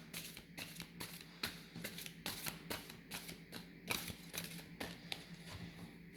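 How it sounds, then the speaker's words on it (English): Tarot cards being cleared and shuffled, a quick run of crisp riffling flicks and soft slaps repeating steadily, close and fairly quiet with no talking. "So first I'm going to clear the cards."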